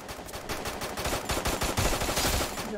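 Rapid automatic gunfire from a bot fight in the mobile game Free Fire, a dense stuttering burst of shots running loud and close throughout with no pause.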